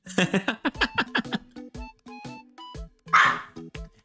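A pet dog barks and yips in a rapid run of sharp bursts close to the microphone indoors, with one louder, rougher bark near the end and steady tones in the background.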